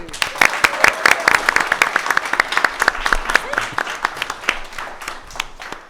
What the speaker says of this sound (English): Let's give a little round of applause one more time